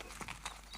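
Horse hooves clip-clop faintly in a few uneven beats at a Melbourne Cup horse yard, under a steady hiss of background noise.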